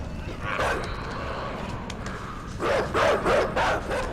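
Dogs bark in the video game A Boy And His Blob, with a single yelp and then a quick series of four or five loud, close woofs over a steady game background hum.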